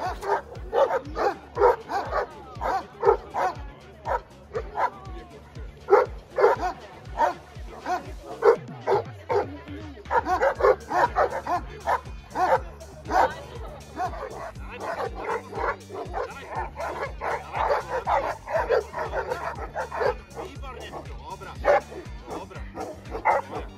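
Moscow watchdogs and puppies bark continuously during guard training, a dense run of loud, rhythmic barks and yips with some whimpering, close by throughout.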